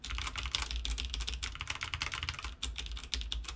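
Typing on a budget 70% mechanical keyboard, a Redragon K599 or Royal Kludge RK71, produces a close, steady stream of crisp key clacks in quick rhythm, clear and continuous without talking.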